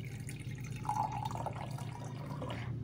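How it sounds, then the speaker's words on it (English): About 100 ml of water is poured into a laboratory beaker, a continuous close trickle and splash with a faint rising gurgle as it fills, with no voices. "Take a beaker and add approximately 100 ml of water"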